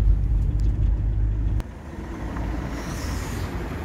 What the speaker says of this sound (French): il y a des voitures de tous les côtés, c'est le bordel